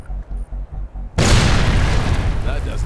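A loud, sudden explosion in the Sniper: Ghost Warrior 2 video game bursts in after a brief stretch of low voice, then roars and rumbles steadily to the end.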